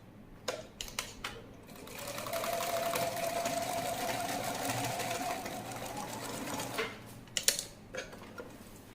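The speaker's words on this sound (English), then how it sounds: "So I'll be using zigzag stitch for that." A sewing machine runs a zigzag stitch over elastic tacked onto skirt fabric, a steady mechanical whir for several seconds, framed by sharp clicks and handling sounds at the start and end.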